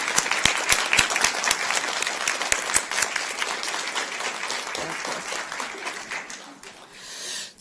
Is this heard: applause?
yes